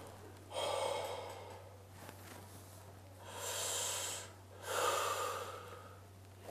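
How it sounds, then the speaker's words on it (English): A patient takes three deep breaths during a respiratory examination, each a long airy inhale or exhale close to the mic, separated by short quiet gaps over a low steady hum. "Can I ask you to take some deep breaths in and out?"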